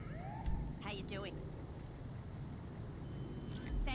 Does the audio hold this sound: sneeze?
no